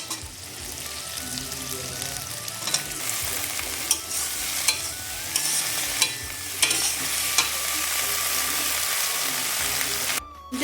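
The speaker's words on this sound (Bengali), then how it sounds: "তারপরে এখন দিয়ে দিচ্ছি আগে থেকে কেটে রাখা ঢেঁড়স" Chopped okra fries in a pan with a steady, bright sizzle close up, while a utensil scrapes and stirs through it in repeated strokes.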